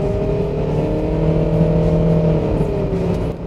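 Inside a Toyota Succeed 165 on the road, a steady cabin drone of engine and tyre noise hums loud and close, with faint ticks of sand thrown up from the wheels striking the body.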